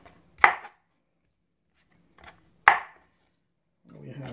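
A knife chops fruit on a cutting board for a breakfast smoothie, giving two sharp, close thuds about two seconds apart, then a softer scraping at the end.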